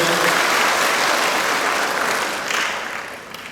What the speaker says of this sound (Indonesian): Kita aplaus juga untuk beliau.